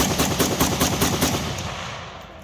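A gun with electronic burst and full-auto modes fires a rapid automatic burst at an outdoor range day, a loud, close string of evenly spaced shots that stops partway and leaves a fading echo.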